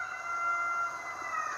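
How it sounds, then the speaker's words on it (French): Roosters crowing around midday at a neighbour's property, a sustained, fairly faint cry running through the whole stretch over steady background noise, with no one speaking. "Alors ça, c'est les coqs pendant l'heure de midi."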